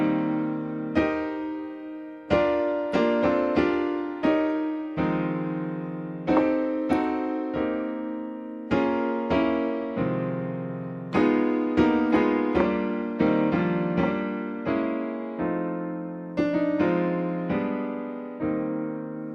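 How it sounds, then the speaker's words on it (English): Classic jazz block chords played on piano through a song, each rich chord struck clearly and left to ring and decay in a slow, melodic sequence, heard solo without any talking. "block chords are this really cool classic jazz sound. And block chords sound like this."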